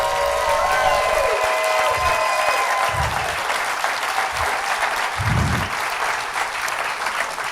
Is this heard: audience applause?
yes